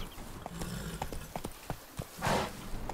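Horse hooves from the Witcher 3 game, the horse Roach, clop in a quick galloping rhythm, close and fairly loud, with a brief whinny or snort in the middle of the run.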